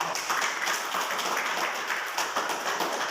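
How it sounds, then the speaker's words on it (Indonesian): Classroom applause for a student, a steady wash of many hands clapping at moderate level throughout, with no voices standing out. "sekali lagi kita tepuk tangan untuk anak"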